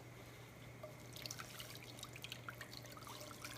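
Water trickles and splashes softly into a cooking pot over a low steady hum, faint and close, with small drips becoming more active partway through.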